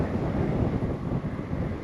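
Wind blows across an open roadside in Turkey, a steady low rumbling buffet against the microphone that roars without pause for the whole stretch, with no voices.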